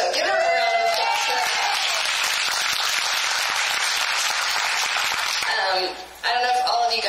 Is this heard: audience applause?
yes